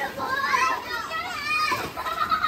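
Children play outdoors in the rain at a family gathering, their high voices chattering and calling continuously at close to moderate distance, with adult talk mixed in.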